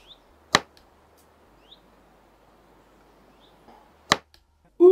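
Two sharp, loud arrow impacts strike a target a few seconds apart, crisp thuds over a quiet outdoor background with faint bird chirps.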